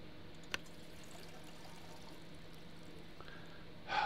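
Water is poured out and dropped from a pack in The Long Dark, a faint, steady trickling wash with a single small click early on and a louder splash near the end.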